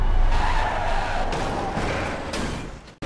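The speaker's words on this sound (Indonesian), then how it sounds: "Mobil pemadam pun kehilangan kendali dan menabrak gedung apartemen pemuda ini." A fire truck loses control and slams into an apartment building: a loud, sustained skidding, scraping rush with crash noise, steady for about three seconds and then cutting off abruptly.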